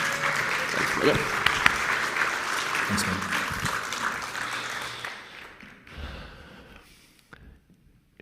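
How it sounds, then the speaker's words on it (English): A round of applause from an audience for a military veteran, steady crowd clapping that fades out over several seconds while someone briefly says thanks. "Can we give him a round of applause,"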